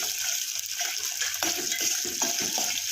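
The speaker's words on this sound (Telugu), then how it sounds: "పల్లీలు అయితే చిటపటమని వేగుతున్నాయి" Peanuts crackle and sizzle steadily in hot frying oil, a close, continuous hiss with small scattered pops and no talking.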